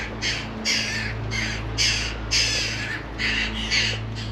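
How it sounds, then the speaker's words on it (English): Roosting gulls at a castle on the Isle of Bute, Scotland, give about eight harsh, raspy calls in an uneven series. The calls are close and loud over a low steady hum. "A couple of roosting gulls there."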